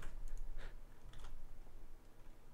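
Fast typing on a computer keyboard during a live game-jam coding session, a quick flurry of light clicks and taps, fairly soft and close, without talking.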